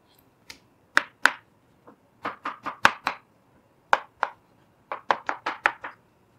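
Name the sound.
slicing mango with a knife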